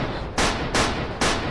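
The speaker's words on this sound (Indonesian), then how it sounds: "Kenapa banyak suara tembakan?" Three loud gunshots crack out in quick succession, each a broad, harsh burst about a third of a second apart, close and dominating over a noisy background.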